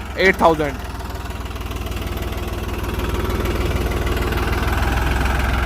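Farmtrac tractor with an S8000 series engine running, a steady low throbbing idle that grows slightly louder and holds; a voice is heard briefly at the start.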